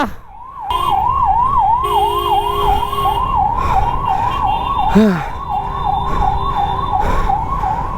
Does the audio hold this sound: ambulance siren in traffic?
yes